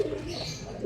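A pet pigeon coos softly in a short, low, steady burst, close by and alone, with no talk over it.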